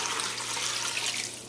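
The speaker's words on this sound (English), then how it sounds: "A bit more water in there." Water pours steadily into a cooking pot of red peas, a continuous, even rushing splash that fades slightly at the end.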